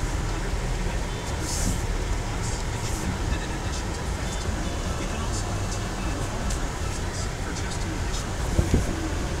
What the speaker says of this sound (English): AC is blowing cold in here.